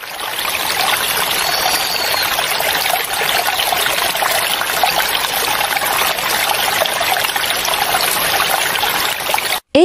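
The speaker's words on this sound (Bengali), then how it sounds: "হঠাৎ পানির বিশাল ঢেউ এসে আছড়ে পড়ে তার উপর" A large water wave surging over a man, heard as a continuous loud rushing and splashing wash of water that carries on without a break, with no voices.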